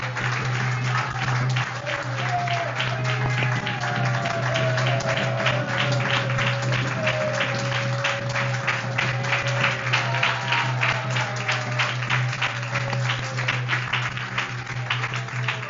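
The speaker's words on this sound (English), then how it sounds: "let's give a big round of applause" Sustained rhythmic audience clapping at an evening pilgrimage program in Govardhana, steady and fairly close, with a low constant hum and faint melodic tones running underneath.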